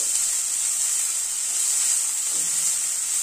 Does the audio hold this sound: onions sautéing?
yes